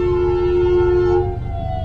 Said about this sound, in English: We just had another ambulance and a cop go by